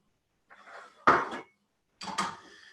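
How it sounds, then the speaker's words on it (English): Bok choy stems and shallot tipped into a hot pan and stirred, giving two short clattering bursts of metal and utensil contact separated by silence. "add the bok choy stems and the shallot to the hot pan and stir until they are beginning to char"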